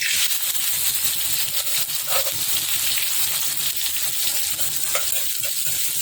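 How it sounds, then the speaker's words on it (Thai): Pounded red curry paste frying in a pot of hot oil while being stirred, a loud, dense, continuous sizzle and hiss up close, with occasional scraping and no talking. "พอน้ำมันเดือด แล้ว ก็นำเอาพริกแกงที่เราตำนะครับ ไปผัดให้หอมครับ"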